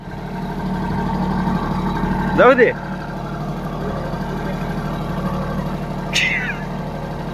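A farm tractor's engine runs at a steady low rumble in a field, a constant drone beneath people talking nearby, with a couple of brief vocal bursts over it.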